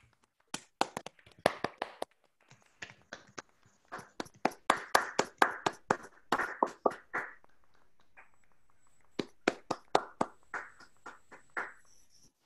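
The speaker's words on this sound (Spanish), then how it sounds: "vamos a abrir los micrófonos y vamos a dar un gran aplauso" Online meeting participants applaud over open microphones in bursts of scattered hand claps, with a short pause partway through before a final round of clapping.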